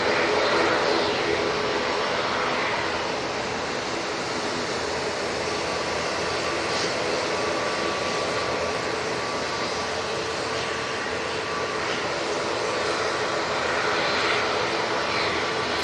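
Airliners, including an easyJet, taxiing at Manchester Airport produce a continuous engine drone and hiss at moderate distance, steady with no pauses.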